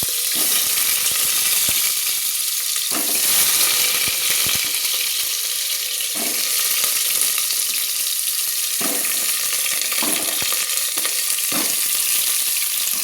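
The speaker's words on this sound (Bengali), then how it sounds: "আমি সেগুলো একটু প্রেসার কুকারে ভেজে নেব, হালকা হালকা করে ভেজে নেব" Potato pieces frying in mustard oil inside a pressure cooker give a loud, steady hiss and crackle throughout, with occasional bumps and clatters as pieces shift and settle.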